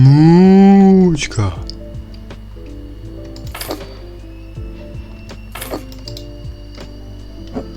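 A cow in the farm video game House Flipper Farm gives one loud, drawn-out moo at the start, followed by quiet clicks and interface ticks.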